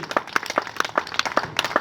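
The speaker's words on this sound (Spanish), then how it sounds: "ese aplauso es para Cristo, dáselo más fuerte porque Él se lo merece" A church congregation claps in a steady, rhythmic beat, moderately close, with individual claps distinct over a faint background.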